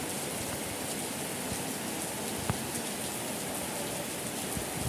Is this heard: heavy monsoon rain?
yes